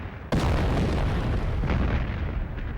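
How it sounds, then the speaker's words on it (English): German artillery opening fire at Passchendaele, rendered as a sudden loud boom that swells into a dense, continuous roar of heavy guns and explosions, with no voices. "At 0 hour, the German guns open up."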